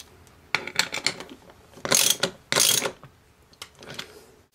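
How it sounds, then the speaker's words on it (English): A socket wrench ratchets as a bolt is tightened, giving a series of close, crisp clicking bursts of rapid pawl ticks, with two louder, longer rasping strokes in the middle. "then tighten it using a socket wrench"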